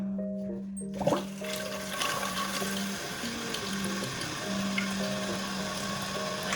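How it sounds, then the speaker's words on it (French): Water rushes into the reservoir of a newly installed bidet, a steady close hiss and gurgle that starts abruptly after a second, with a tonal hum early on. "Fait que notre réservoir se remplit."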